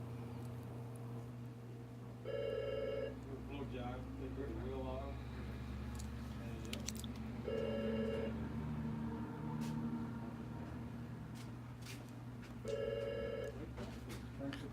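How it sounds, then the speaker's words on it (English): A telephone rings unanswered in a beauty shop, three evenly spaced bursts of electronic ringing recurring every few seconds while people talk nearby. "There's like 5 men in here and nobody wants to answer the phone"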